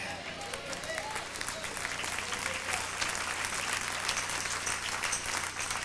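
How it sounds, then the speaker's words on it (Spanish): An audience at a Spanish-language religious talk applauds steadily, a dense, sustained clapping that fills the whole stretch at moderate loudness without pause. "Oiga, esos aplausitos no sirven"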